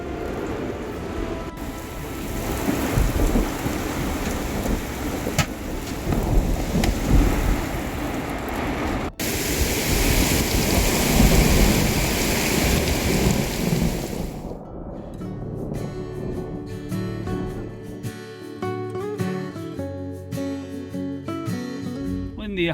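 Heavy nighttime thunderstorm with driving rain and strong wind gusts at a fuel station stopover, a loud continuous roar of rain and wind that drops away near the end into quieter tonal sounds.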